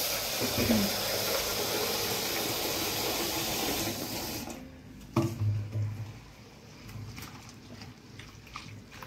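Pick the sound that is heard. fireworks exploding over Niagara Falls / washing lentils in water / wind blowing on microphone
washing lentils in water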